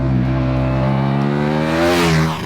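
A 2014 KTM 1290 Super Duke R engine revs hard as the motorcycle accelerates on a track, a loud, steady rising drone with the pitch climbing through the run.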